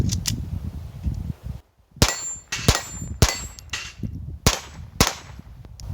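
A Ruger Mark III pistol fires .22 LR rounds at steel plates, with about six sharp, evenly spaced shots, each followed by a ringing metallic clang, heard close and loud over outdoor background noise.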